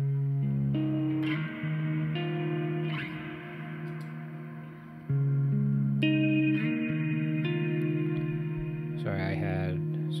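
A bass guitar runs through a reverb effect pedal, with sustained low notes that bloom into a wide, shimmering wash of reverb. Several notes and chords are played in slow phrases, loud and up close.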